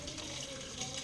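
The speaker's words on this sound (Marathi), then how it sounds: "आता मी यामध्ये थोडं पाणी टाकून बघते." Water splashed into hot homemade ghee sets off a continuous, fairly loud hissing sizzle that holds steady throughout the short moment.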